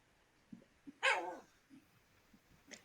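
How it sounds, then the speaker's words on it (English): A pet dog gives one loud, sharp bark close by, with a few faint soft knocks and rustles around it in an otherwise quiet room. "Oh, that was my dog."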